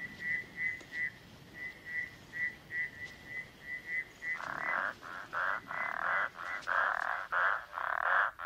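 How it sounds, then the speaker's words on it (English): Repeated rhythmic frog calls at an African pond at night, a steady series of clicking notes joined midway by louder, rasping pulses from other frogs, with no voices present. "About 20 different kinds of frogs will breed at night in this pond."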